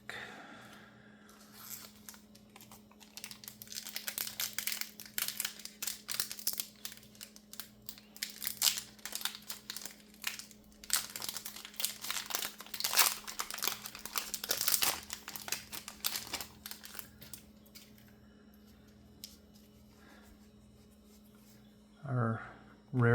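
A Star Wars CCG Tatooine booster pack wrapper is torn and crinkled open close up, its quiet rustling foil crackle running in uneven bursts against a faint steady hum, with a brief louder handling noise near the end.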